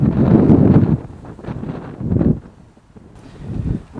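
Storm wind gusts across an allotment of leeks and squash plants, loud buffeting rushes that rise and fall in waves, with rustling foliage and heavy wind noise on the microphone.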